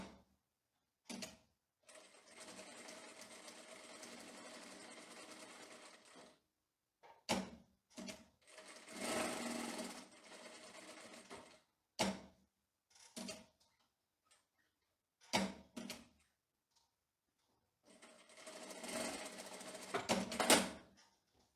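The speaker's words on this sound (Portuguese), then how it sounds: "vamos fazer o pesponto fininho na máquina reta" Straight-stitch sewing machine topstitching the lapel of a women's tailored trousers, running in several bursts of steady mechanical whirring that stop and restart, with short clicks between runs.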